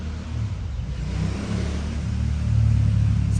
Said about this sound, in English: Some loud ass motorbike.